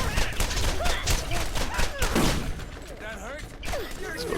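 Rapid pistol shots in the Borderlands game, Game of the Year Edition, fired in a steady quick rhythm amid other game noise, with a voice talking intermittently over the action.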